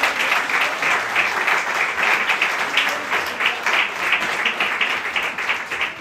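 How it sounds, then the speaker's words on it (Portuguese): A church congregation applauds during a deacon ordination service, a sustained wash of many hands clapping at steady volume throughout, with no voices on top. "Dê uma salva de palmas ao Senhor"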